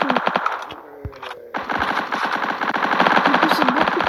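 Automatic gunfire shooting zombies in a block-style shooter video game's zombie mode: loud, rapid bursts of shots with a short break, then sustained firing, dense and continuous.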